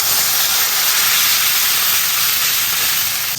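Water poured into a hot wok of chili oil, doubanjiang and hotpot base, a loud, dense, steady steam hiss and sizzle close up, no voices.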